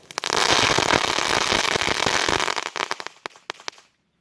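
Consumer fireworks going off at night on the Fourth of July, outdoors on a windy evening: a loud sustained burst of crackling and popping that breaks into a string of sharp separate pops before stopping abruptly.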